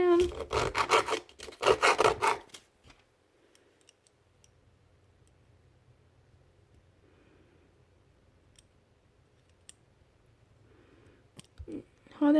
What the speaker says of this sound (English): Sanding that down.